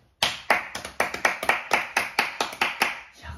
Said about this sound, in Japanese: 素晴らしいな、ほんまに拍手。